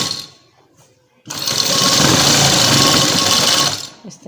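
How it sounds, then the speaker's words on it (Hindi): Sewing machine stitching along the seam of a trouser, starting abruptly after a quiet moment and running in one steady, loud, buzzing burst for a couple of seconds before stopping, with someone talking nearby. "ये हमने नीचे वाली साइड पे सिलाई लगा ली है"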